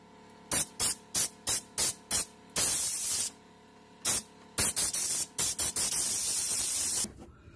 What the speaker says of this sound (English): before I do that, I'm gonna blow it out here a little bit.